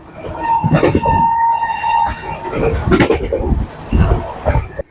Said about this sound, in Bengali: প্রায় 130 কিলোমিটার বেগে ট্রেন ছুটে চলেছে আমাদের শতাব্দী এক্সপ্রেস